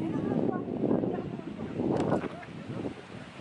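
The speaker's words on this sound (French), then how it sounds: "Il y a un vent de folie." Strong gusts buffet an unshielded microphone outdoors on a walk on Mont-Royal, a continuous low rumbling roar that swells and eases throughout, loud and close.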